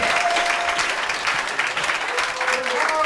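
An audience at a stand-up comedy show claps in a steady, loud burst of applause that fills the room, with a voice faintly audible beneath it.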